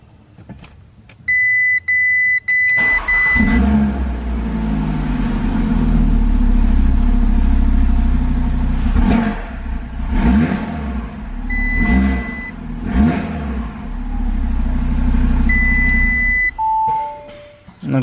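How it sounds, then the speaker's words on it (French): An Audi RS3 8V2 tuned to 400 hp starts up with warning chimes, then its five-cylinder engine idles loudly and steadily, with a few revs rising and falling and more chimes near the end. "là on va démarrer la voiture, je vais te faire voir un peu"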